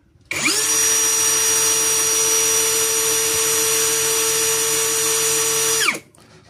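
A Mukete 21V brushless drill spins up at its lowest speed setting and runs with a steady, even motor whine for about five seconds before winding down and stopping.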